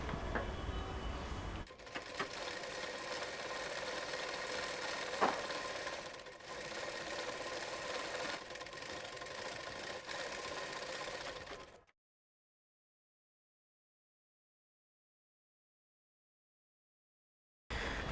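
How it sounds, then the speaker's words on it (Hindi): Sewing machine stitching a folded double-layer bell sleeve, running in a fast continuous whir for about ten seconds with a brief pause partway through, then cutting off into silence. "अब एक पॉइंट का फोल्ड इसमें और करेंगे और पूरी गुलाई में सिलाई देंगे"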